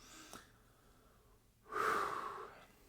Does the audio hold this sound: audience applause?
no